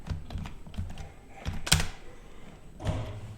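Keys pressed on a computer keyboard while entering values into a C program, a handful of irregular close clicks and a sharper thunk of a keystroke, moderately loud with no talk.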